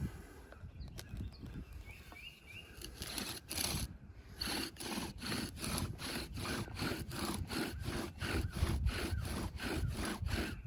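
A bow drill spins red maple on a red maple board under a fatwood bearing block, giving a steady rhythmic sawing squeak. Each back-and-forth stroke comes through clearly, close and fairly loud, speeding into regular strokes after a few hesitant ones.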